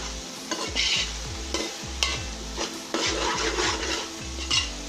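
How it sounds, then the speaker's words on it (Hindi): Ginger garlic paste sizzles in a hot pan, with a continuous crackling fry and regular scraping strokes of a spoon stirring it, close and steady. "अब हम इसमें अदरक लहसुन का पेस्ट ऐड कर रहे हैं 1 चम्मच, और इसे अच्छी तरह भून लीजिए"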